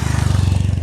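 A motorcycle passes close by on a farm road, giving a short, loud, throbbing engine drone.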